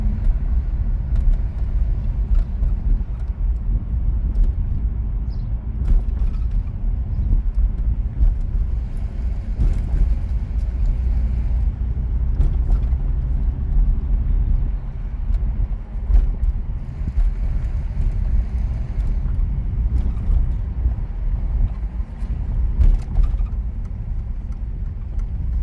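A car drives along a road, giving a steady low engine and tyre rumble with some wind buffeting at the microphone, continuous and fairly loud throughout with no talking.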